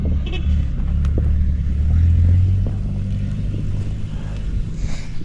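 A loud engine of a 32-year-old pickup truck idling and rumbling close by, swelling briefly in a low growl before settling back to a steady run.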